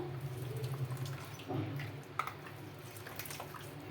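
Washed puffed rice squeezed by hand so the water drips out before it drops into a mixer jar: faint, scattered trickles and drips with one small splash over a low room hum.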